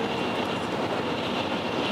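A train running through a tunnel between Osaka and Tokyo gives a steady, dense rumbling roar with broad hiss, constant and enveloping, with no distinct clacks or voices.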